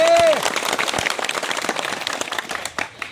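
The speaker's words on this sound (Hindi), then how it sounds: "सनू के लिए जोरदार ताली" Crowd applause at an outdoor village meeting in a bazaar, dense clapping from many people filling the clip at steady loudness, with a brief voice at the start.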